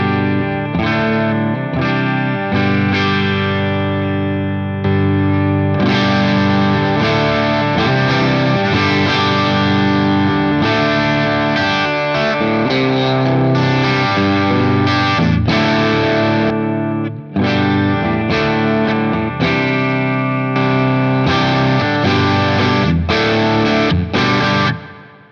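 Electric guitar through a Caline Pure Sky overdrive pedal with all controls at noon, playing continuous driven chords and riffs, loud and close, with short pauses and no talk.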